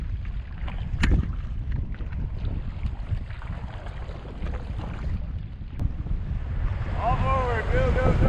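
Steady wind buffets a canoe on a river, a rough low rush and flutter running throughout, joined by a faint splash or knock near the start and brief voices toward the end.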